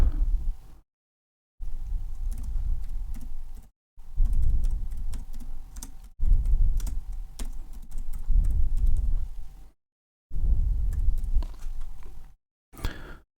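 Rapid, uneven keystrokes on a computer keyboard as dummy text is entered into a text box, heard close up in several bursts separated by short silent pauses, with no voices.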